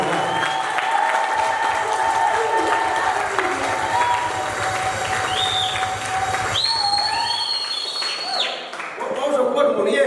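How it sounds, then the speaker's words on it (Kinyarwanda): A church congregation claps in rhythm through a worship song, the steady clapping running beneath singing voices and whistles before fading near the end. "tera amashyi nkawe"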